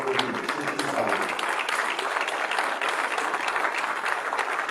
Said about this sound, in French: On les applaudit, ceux qui savent.